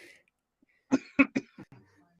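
A person coughs several times in quick succession, three sharp hacking bursts followed by a couple of softer ones, close and otherwise quiet.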